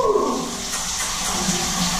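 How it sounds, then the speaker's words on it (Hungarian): A warm shower runs steadily at a water park, a loud, continuous broadband rush of falling water with no pauses, close and alone without voices. "Hogy élvezzük ezt a meleg zuhanyt."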